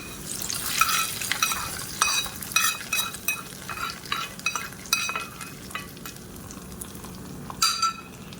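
Dal with onions stirred in a pot on the stove, a spoon scraping and clinking in repeated strokes over a soft sizzle, close and alone.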